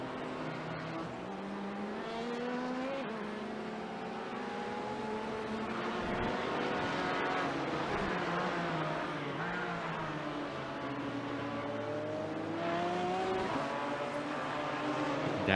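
Race cars circle a track in an endurance race in Virginia, a Porsche among them, their engines a steady, dense drone with shifting pitch as cars rev and pass, continuous and fairly distant throughout.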